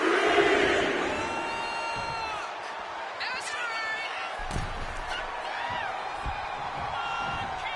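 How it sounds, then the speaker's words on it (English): A capacity WWE wrestling crowd cheers in a large arena, a loud continuous roar with whoops and shouts rising over it, and a few sharp thuds partway through. "This capacity crowd is sending him love, and he's sending it right back."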